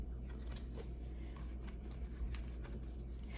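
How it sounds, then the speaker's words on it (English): A deck of tarot cards being shuffled close up, quiet riffling with several short bursts of flicking card edges over a low background hum, without talk. "I had to shuffle these cards."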